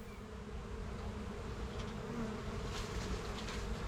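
Dense, continuous buzzing of many bees, steady and close, with a few louder passes as individual insects fly near.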